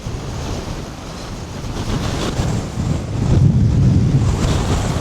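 Strong gusting wind on an exposed hillside near White Coomb during a solo hike, roaring steadily across the microphone with a rumbling low buffet that builds louder partway through, heard alone with no talking.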